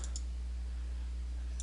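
A computer mouse clicks on field names in a spreadsheet-style program, two quick faint clicks at the start and another pair at the end over a low steady hum.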